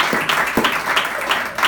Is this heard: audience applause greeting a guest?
yes